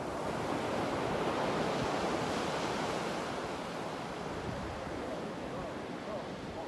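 Ocean waves at Sosua Beach make a broad, continuous roar of surf with wind buffeting the microphone, loud and steady throughout with no distinct breaks.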